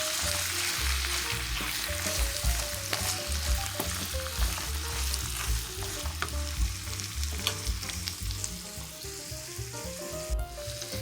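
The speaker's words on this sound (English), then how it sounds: "all you want to do is give that a good mix" A stuffed bell pepper filling is mixed in a hot pan, a continuous frying sizzle under repeated scraping stirs. Faint tonal background music sits beneath it, with no speech.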